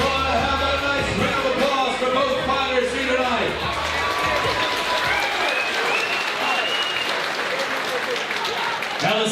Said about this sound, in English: Have a nice round of applause for both fighters here tonight.